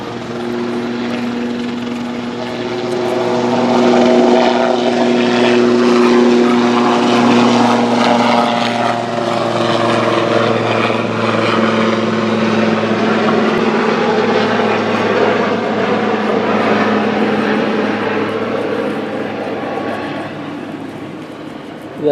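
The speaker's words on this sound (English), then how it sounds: "That's a helicopter taking off from a hospital." A helicopter taking off from a hospital: loud, continuous rotor and engine roar with a low throbbing drone and shifting pitch, swelling slightly and holding steady throughout.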